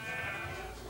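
A sheep bleats once, a drawn-out wavering cry up close that fades toward the end, with no talk over it.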